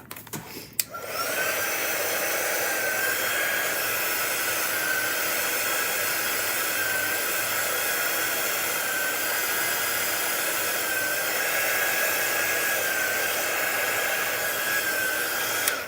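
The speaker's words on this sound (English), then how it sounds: "We're going to dry it real quick." A hair dryer blows steadily on an Easter heat transfer design, starting with a click and then holding a loud, even whoosh for the whole stretch.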